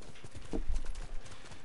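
A horse's hooves clop quickly in a short galloping burst in Ghost of Tsushima, with a brief snorting whinny in the middle, close and fairly quiet.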